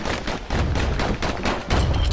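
Rapid repeated shots from twin slinger pistols in the video game Bastion, a loud steady rattle of evenly spaced reports close up with no talking.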